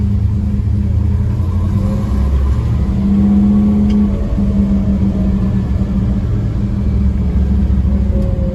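A 1967 Chevelle SS with a 396 V8 rumbles steadily at low revs, a deep continuous drone as it drives slowly around a parking lot, with slight swells in the revs.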